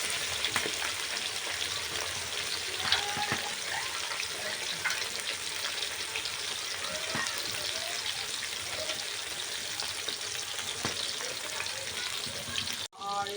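Fish pieces fry in hot oil in a pan with a steady, close crackling sizzle throughout, plus occasional clinks and brief water-like splashes near the end.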